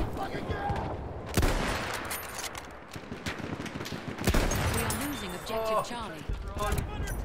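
Gunfire in the video game Battlefield 1, with sharp shots and short bursts scattered through the clip, a couple of them louder and nearer, under a player's talk over voice chat.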